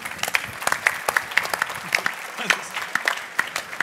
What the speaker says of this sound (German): Jetzt freuen wir uns zunächst mal auf den Stefan, Spotify, The Audio Debate, der mit diesem Applaus schon mal vorab gefeiert wird.